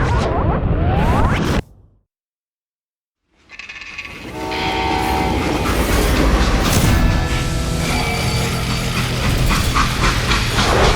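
A freight train in the video game Call of Juarez: Gunslinger: after a few knocks and a brief silence, a loud, steady rumble of rolling rail cars rises, with sustained horn-like tones running through it.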